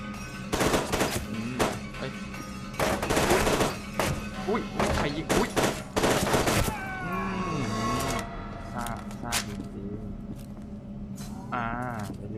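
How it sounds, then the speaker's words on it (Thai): Rapid automatic gunfire in the first-person shooter F.E.A.R. 2: Project Origin, loud dense bursts over a game soundtrack for several seconds, then fading into quieter in-game ambience. "ยิงทะลุกล่องเลยอ่ะ"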